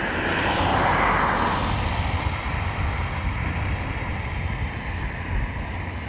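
Turkish Airlines airliner taking off from runway 28 right at Dublin Airport on a cold day, its jet engines a loud steady roar that swells in the first seconds, then settles into a sustained rumble as it climbs away.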